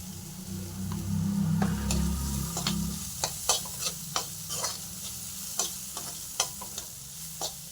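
Aloo paratha filling with turmeric is stirred and sautéed in a pan, a soft sizzle under a run of sharp, regular spoon scrapes and taps against the pan, close and clear with no voices.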